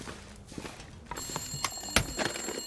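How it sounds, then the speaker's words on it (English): An old telephone rings in The Long Dark, a bright repeating electric bell with sustained metallic tones that sets in partway through over a low ambient background. "Got a phone call."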